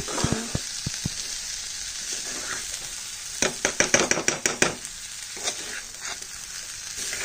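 Dried fish (shutki) frying with spices, a continuous close sizzle under quick runs of spatula scrapes and taps against the pan, with a burst of rapid rhythmic strokes in the middle; no talking.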